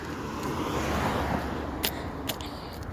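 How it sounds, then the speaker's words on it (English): A car goes by in a park on a sunny day, a close, steady broadband rush that fills the three seconds with a few brief sharp clicks near the end and no talk. "It's a car."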